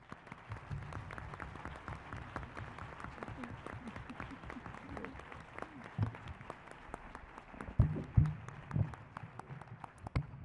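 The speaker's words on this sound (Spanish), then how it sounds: "Para ella es este aplauso." A lecture audience at the UCAV autumn school applauds Carmen Calvo: steady, fairly faint clapping from many hands across the whole stretch, with a low murmur underneath and a few sharper bursts near the end.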